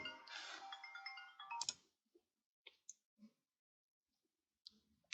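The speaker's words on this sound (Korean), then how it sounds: "전화가 울려가지고 잠깐 끊어가지고" A phone rings with a bright electronic tone for about a second and a half. A few soft clicks and taps follow in an otherwise quiet room.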